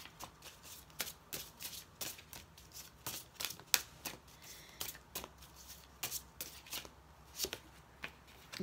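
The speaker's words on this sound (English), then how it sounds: "let's go through the Sacred Feminine deck, and just pull out a card here" Sacred Feminine oracle card deck being shuffled by hand, a quiet series of crisp riffling flicks and soft slaps in an irregular rhythm, close and alone in a hushed room.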